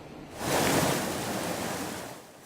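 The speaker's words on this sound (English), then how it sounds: "Just from listening to the Carson and Truckee rivers, you can tell they are running high" The Carson River running high near flood stage, a steady broad rush of fast-moving water that swells after a quiet start and holds loud and close throughout, with no voices.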